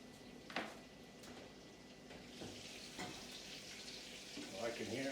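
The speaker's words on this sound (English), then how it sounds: "Well, I can hear it sizzling in there." Steak searing in a hot pan gives off a quiet, continuous sizzle and crackle, with occasional clanks and scrapes of the pan handling over it.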